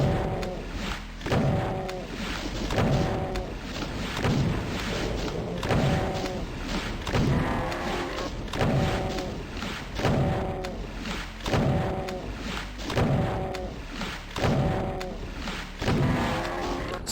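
Heavy, evenly spaced shotgun blasts fired at a Baron in the video game Doom 64, about every second and a half, each a loud boom with a short mechanical tail, over continuous game noise.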